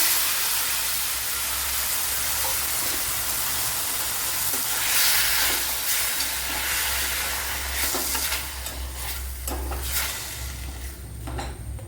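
Crushed onion and tomato go into hot oil with mustard seeds and dried red chillies, giving a loud steady hiss and sizzle close by that fades somewhat toward the end, with a few faint utensil knocks.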